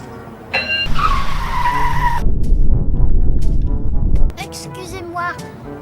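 A car in the animated film The Brave Little Toaster skids and screeches as it brakes at a red light, a loud rough tire squeal lasting a couple of seconds, framed by animated voices before and after.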